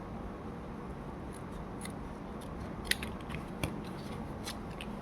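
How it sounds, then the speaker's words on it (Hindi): Scissors snipping through matchbox cardboard for a mini truck craft, a few light, close clicks and snips spread over a steady background hiss. "अब इसे भी काट लेना है।"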